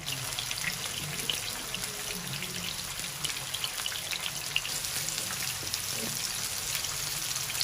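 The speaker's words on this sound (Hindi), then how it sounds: "और इसको नॉर्मल आंच पे फ्राई करना है, ज़्यादा तेज आंच पे नहीं करना" Peshawari chapli kababs fry in hot oil or ghee over medium heat, giving a steady, dense crackling sizzle with small pops, close and continuous with no voices.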